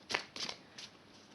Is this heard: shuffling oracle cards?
yes